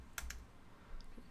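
A couple of quick, faint keystrokes on a computer keyboard, then a light click, quiet and close, with no talk over them.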